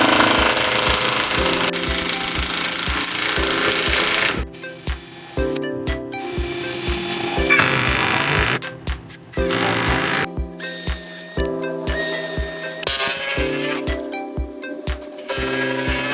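A power drill drives a pre-drilled hole into the end grain of a wooden board while a foldable, wheeled table is built. The close, loud motor whine and grinding come in repeated bursts separated by short pauses.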